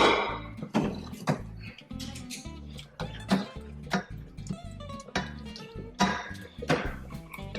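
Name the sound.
stirring linguine seafood tomato sauce in a pan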